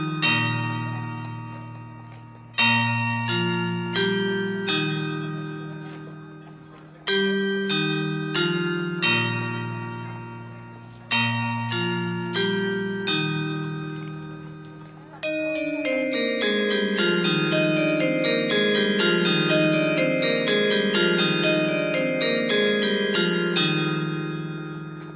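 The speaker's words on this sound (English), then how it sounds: "Oranges and lemons, say the bells of St. Clements." Church bells of St. Clements chime in a sequence of clear, descending melodic peals that repeat in rising waves, becoming a dense overlapping cascade of rapid strokes in the second half, loud and close with no voices.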